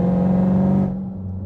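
A supercharged HEMI V8 Dodge Hellcat fitted with an MPI supercharger lid drives by with a loud, steady engine drone and supercharger whine that abruptly drops away to a lower idle-like hum.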